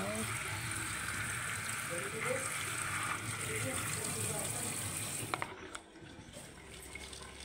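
Okra and chili leaves are washed under a running tap, a continuous close splash and gush of water that drops off near the end, leaving quieter handling sounds.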